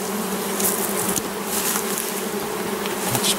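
A dense swarm of honey bees hums and buzzes continuously up close, a steady droning mass with occasional louder passes.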